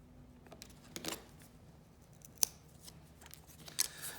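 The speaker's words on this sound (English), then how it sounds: "When you're cutting these little popsicle sticks or stirring sticks, whatever you have around the house, you don't have to cut all the way through." Popsicle or stirring sticks being cut with scissors, a few faint, sparse snips and clicks spaced out over a quiet background.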